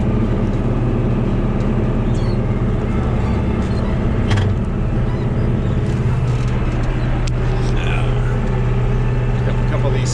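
Oliver tractor engine running while making first-cutting hay: a steady, loud, close mechanical drone with a constant low hum, holding even throughout with only small bumps and clicks from the working machinery.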